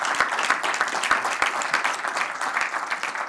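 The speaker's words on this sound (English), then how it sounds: "one round of applause for all of these category winners" A live audience applauds the category winners at a startup pitch event, steady dense clapping filling the room for a few seconds without speech.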